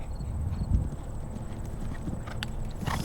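A horse's hooves thud and clip-clop at speed over the turf of an eventing cross-country course at Morven Park, a rapid, uneven galloping rhythm close by, with a faint snort and outdoor ambience.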